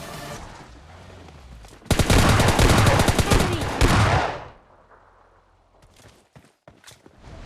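Gunfire in the PUBG Mobile Lite mobile game: a loud, rapid burst of automatic shots lasts about two seconds, then fades to quiet with a few faint taps afterward.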